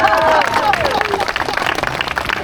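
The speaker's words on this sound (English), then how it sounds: "we need to give him a round of applause" Crowd applause and cheering at a 10k race prize presentation outdoors, lively uneven clapping mixed with voices and chatter, with a brief whistle-like tone early on.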